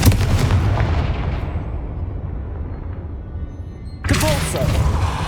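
A Confringo fire spell in the video game Hogwarts Legacy bursts into a loud, deep explosive boom that rumbles and slowly fades, followed about four seconds later by another sharp, bright blast.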